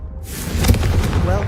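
The Confringo blasting spell in the video game Hogwarts Legacy goes off as a deep booming explosion with a rumbling, crackling tail that starts abruptly after a brief quiet moment.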